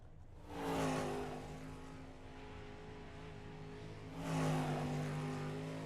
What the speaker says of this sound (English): Right now, you only have 2 cars on the track.